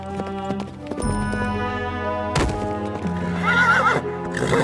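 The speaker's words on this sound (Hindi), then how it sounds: "मेरा घोड़ा आपको इस तरह से प्यार क्यों कर रहा है?" A horse neighs loudly in several drawn-out whinnies while hooves clip-clop nearby, both sounds close and continuous throughout.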